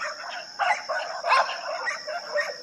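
Two dogs bark in a scuffle over leftover bones: several short, clustered bark bursts at moderate distance, rising and falling over a faint steady background hum.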